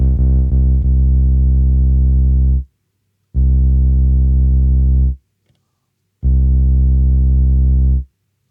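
A deep bass synth patch from a Digitakt 2 and Avalon setup plays three long sustained low notes, each held about two to three seconds and separated by silence, loud and alone with faint clicks at the start.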